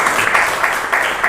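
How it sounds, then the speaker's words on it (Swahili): Audience applause from a crowd, a steady dense patter of clapping with slight swells, continuous and fairly loud throughout the short stretch. "Asante, tupigie makofi."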